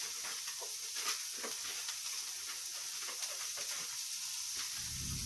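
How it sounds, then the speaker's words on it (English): Green peppers and onions frying in a pan give a steady, fairly quiet hiss and sizzle with light crackles, continuous throughout and with no talking over it. "I'm going to go ahead and put in my green peppers and my onions"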